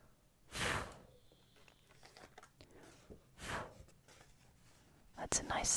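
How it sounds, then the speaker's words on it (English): Breath blown across paper to clear fine birch bark dust, heard as a few soft airy whooshes spaced apart with light rustling between them, close and quiet. "I'll blow some off the paper."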